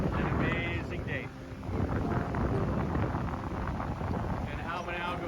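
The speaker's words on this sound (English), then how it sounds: "It is so windy coming off of the ocean." Wind blowing in off the ocean at Ao Manao Beach buffets the microphone with a loud, constant rumbling roar, with faint voices heard briefly under it.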